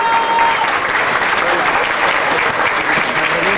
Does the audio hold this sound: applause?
yes